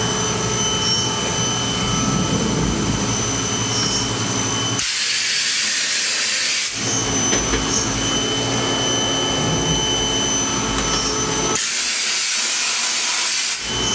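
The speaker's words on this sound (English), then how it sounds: "But that air hose is nice and loud." A compressed-air hose hisses in two sharp, loud bursts of about two seconds each, blasting over a constant background of workshop machine hum and whine.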